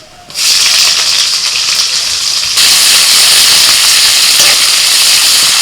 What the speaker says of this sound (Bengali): ফোড়নটা ভাজা হয়ে গেছে দিয়ে দিচ্ছি পেঁয়াজ কুচি